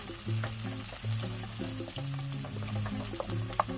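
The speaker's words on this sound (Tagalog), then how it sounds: "igigisa natin ang sibuyas at bawang." Onion and garlic sauté in a hot pan for beef liver adobo, a soft continuous sizzle and frying crackle with faint stirring scrapes, quiet and close with no talking.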